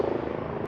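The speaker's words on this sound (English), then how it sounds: "That was a helicopter." A helicopter passes overhead, giving a steady, fairly loud rotor drone with a faint rhythmic pulse and no other sound.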